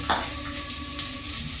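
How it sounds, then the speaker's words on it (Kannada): Tomatoes tipped into a hot frying pan set off a loud, close, continuous sizzle, with a brief burst of spattering at the start and another small flare near the end. "ಟೊಮೆಟೊ ಹಾಕ್ತಾ ಇದೀನಿ."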